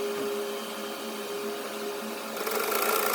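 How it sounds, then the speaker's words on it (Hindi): Sewing machine top-stitching along a fabric edge onto a foam strip for a salwar cuff, a close, steady mechanical whir that gets brighter and louder in the last second. "इस पर बिल्कुल किनारे वाली टॉप स्टिच कर देनी है"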